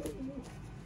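Sialkoti pigeons coo softly at a breeder's loft, a brief, low, faint cooing phrase alone.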